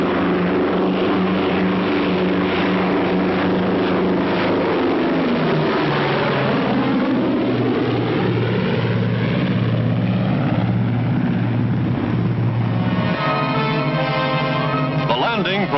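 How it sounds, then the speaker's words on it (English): Propeller-driven fighter planes return to an aircraft carrier, their engines droning loudly and continuously, with one aircraft sweeping past in a falling-pitch pass and a narrator's voice heard over the engine noise. "fighter planes return to the carrier to refuel, rearm, and stand by to repel any new attack from the sky"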